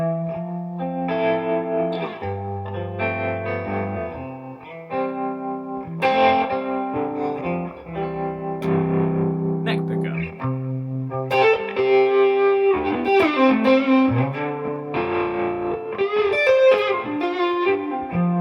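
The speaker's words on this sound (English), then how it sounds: "I'm going to faff about with the pickup selection so you can hear the different tones that you can get from this guitar" Gibson Goldtop '55 HotMod electric guitar strummed through a chorused, slightly distorted amp tone, ringing chords and short melodic fills played in phrases, with the tone shifting as pickups are switched.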